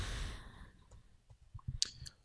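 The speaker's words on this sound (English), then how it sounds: "I'm typing with one hand here." Someone types on a computer keyboard with one hand, a few sparse, quiet key clicks spread unevenly over a couple of seconds in a still room.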